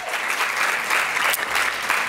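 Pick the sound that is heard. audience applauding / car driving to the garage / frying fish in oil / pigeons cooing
audience applauding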